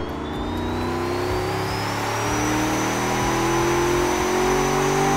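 A 2250 BHP car engine running loud and steady, with a sustained droning hum and a slight rise in pitch as it revs, close up and alone.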